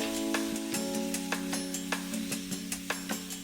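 Chalta (elephant apple) stir-fried with garlic in a pan for a Bangladeshi fish curry: a soft sizzle under a low steady hum, with regular light scraping taps of a spatula stirring about twice a second.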